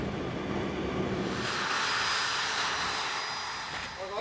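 Engine roar of a Challenger aircraft in flight with an Arctic Command crew over Greenland, a steady loud broadband drone that swells slightly midway and holds throughout.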